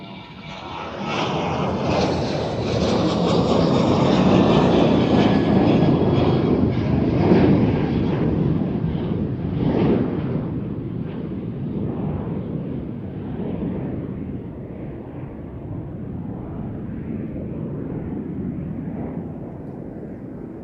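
A Ryanair airliner at Amsterdam Schiphol departing for Dublin: engines spool up into a heavy roar that peaks early, then slowly eases into a steady, more distant rumble.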